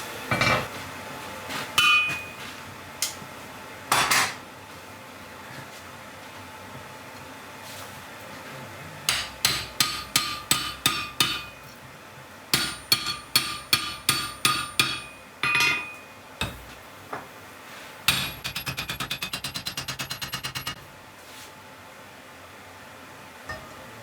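A blacksmith's hammer forges a Kent pattern English axe over a hand drift: close, ringing metallic blows land in rapid bursts of strikes separated by short pauses, with no talking.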